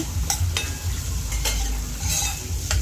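Chopped onion and green chillies sautéed in a pan, a loud close sizzle with rhythmic stirring scrapes every half second or so, no voices.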